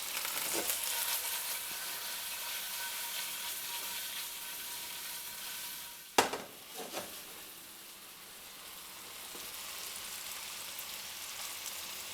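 Chicken piccata meatballs fry in a pan with a steady, close sizzle, broken midway by a sharp clatter as they are moved, then the hiss dips briefly before building back up; no talking.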